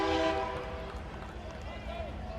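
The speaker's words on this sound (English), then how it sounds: "You hear the train passing by, and perhaps we'll be able to show it to you beyond the center field wall." A train passes beyond the center field wall of a college baseball stadium during a Kentucky versus LSU game. Its horn sounds at a distance over steady rumbling crowd noise, with a voice talking over it.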